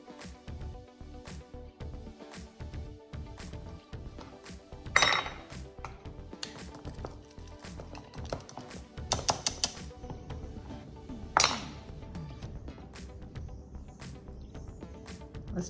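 A small whisk works through guacamole of avocado and lime in a bowl, giving steady rapid clicking and scraping against the bowl, with a few louder clinks standing out.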